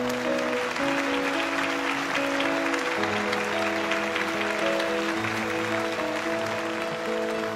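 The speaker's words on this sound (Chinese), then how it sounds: "掌声有请。" Applause at an award ceremony as a bronze-prize sculptor is called up, a dense, steady clapping from a crowd that lasts throughout, with music playing beneath it.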